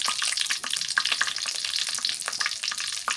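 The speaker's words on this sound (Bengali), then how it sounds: "তেজপাতা দিলাম তেজপাতাটা খুবই ভালো দারচিনি আর গরম মশলা" Bay leaf, cinnamon and garam masala sizzling in hot oil, a dense close crackling fry with popping bursts and light stirring, steady throughout without any talk.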